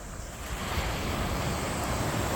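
Sea waves roll onto a clean beach beside the narrow Velas–Bankot road, making a continuous broad wash of surf blended with wind rumbling on the microphone.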